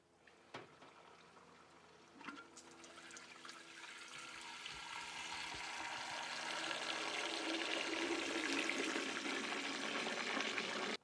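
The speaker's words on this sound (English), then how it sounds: "I'm going to turn on the water pressure really slowly and allow this dust to escape." Water gradually rising to a steady rushing flow as it flushes carbon dust out of a GrowoniX EX400 carbon filter, starting with a few clicks and growing louder and fuller over several seconds.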